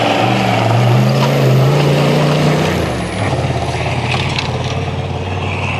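An off-road rally car on a stage drives past fast, its engine a loud close drone that drops in pitch as it goes by, then fades into rougher rumbling.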